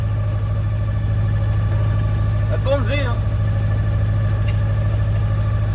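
Sailboat diesel engine motoring at about 1005 rpm, a steady low loud drone throughout with a brief spoken remark over it.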